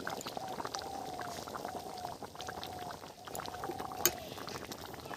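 Duck egg curry in ground spice paste bubbling steadily in a pot, a continuous soft burble and simmer with occasional faint clinks, close up and without talk.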